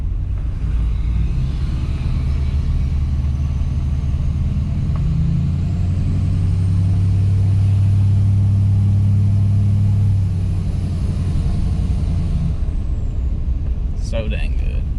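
An LBZ diesel pickup truck with a newly installed turbo lugging uphill, a deep, loud engine drone that swells as it pulls, then eases off, with a brief sharp noise at the end.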